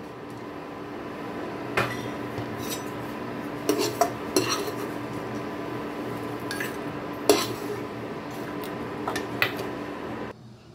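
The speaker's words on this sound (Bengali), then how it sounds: "এখন আমি এগুলোকে একটা আলাদা পাত্রে তুলে নেব" Metal utensils clink and scrape against a cooking pot as fried dry fruits are moved into a separate pot, several sharp knocks scattered over a low steady background hum.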